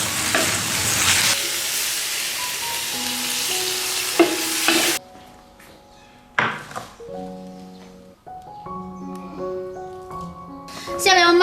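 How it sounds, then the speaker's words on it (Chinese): Greens stir-fried in a home wok with soy sauce, oyster sauce and salt give a loud, dense sizzle with scraping for about five seconds. It then cuts off, leaving quieter clanks, scattered thuds and a faint voice or tone. "放一点盐进去，翻炒翻炒就可以出锅了"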